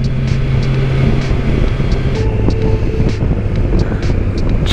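A 2021 Kawasaki Versys 1000 SE LT+ motorcycle is ridden along winding roads, its steady loud engine drone blending with wind rush throughout.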